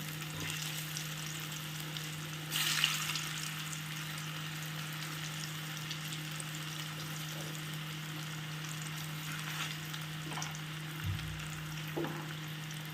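Potatoes fry in oil in a pan on low flame, giving a steady soft sizzle with occasional louder crackles and pops, heard alone without talk.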